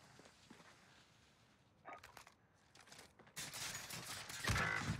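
Gunfire in Call of Duty Warzone on Rebirth Island, faint and scattered at first, then a louder, denser volley of shots closing in toward the end.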